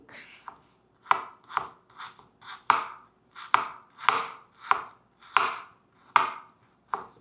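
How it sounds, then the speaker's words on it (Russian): A knife slices through unwashed-skin ginger root on a cutting board, producing about a dozen crisp, close chopping strokes at a steady, unhurried pace with no talk. "Я его просто помыла и прямо в шкурочке буду его нарезать."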